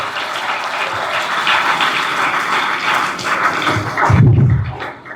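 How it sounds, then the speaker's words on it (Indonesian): Audience at a school motivation training session in Jakarta claps steadily as a dense, continuous patter throughout, swelling briefly louder near the end before fading. "Tepuk tangan untuk kita semua."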